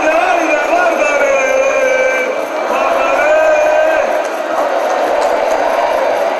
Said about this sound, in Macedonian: И тоа е македонската публика